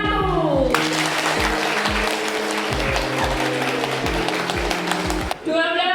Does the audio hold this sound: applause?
yes